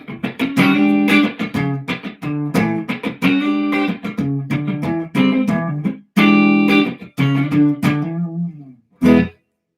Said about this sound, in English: Where's some of the reverb there?